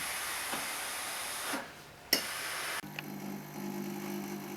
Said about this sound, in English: use our steam iron to get up any of those places that have got any wrinkles